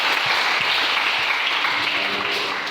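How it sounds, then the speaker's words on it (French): A church congregation breaks into steady, loud applause to acclaim the Lord, a dense wash of clapping filling the room from start to end. "Est-ce qu'on peut acclamer le Seigneur?"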